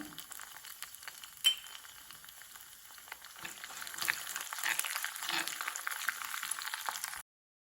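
Oil sizzles and crackles steadily as crushed garlic and curry leaves fry for a tempering, close by, with one sharp clink early on and the frying growing louder.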